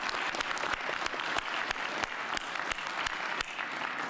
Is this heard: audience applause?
yes